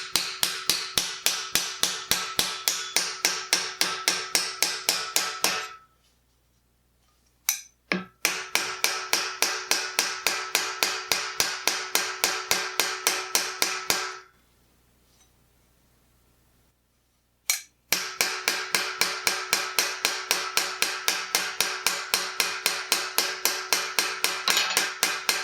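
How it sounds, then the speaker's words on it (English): A rawhide mallet hammers the rolled edge of a piece of steel armour in fast, regular close blows, with two brief pauses before the steady pounding resumes. "I'm going to use the rawhide mallet like I talked about earlier."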